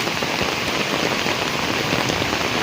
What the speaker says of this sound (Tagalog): Tuloy-tuloy ang ulan dito sa amin.